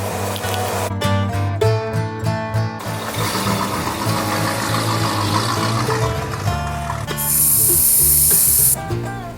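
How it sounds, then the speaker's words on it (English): Air hisses out of a car tire in a loud, steady rush beside a compressor driven by a V8 engine's spark plug port, with a brief sharper high hiss near the end. "I'm letting the air out of the tire"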